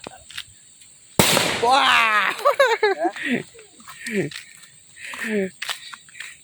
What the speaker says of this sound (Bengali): দেখেন এই যে বাজি ফুটাইতেছি আমরা